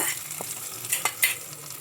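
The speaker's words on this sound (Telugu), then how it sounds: "ఆ పోపును కూడా ఈ చట్నీలోకి అయితే వేస్తున్నా" Hot tempering poured into a chutney in a bowl and stirred, giving a close sizzle with a few sharp spoon scrapes and bursts over a steady hiss.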